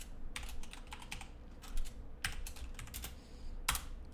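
Computer keyboard typing while entering an Excel formula, a quiet run of irregular key clicks in short bursts with a few sharper isolated taps, with no talking.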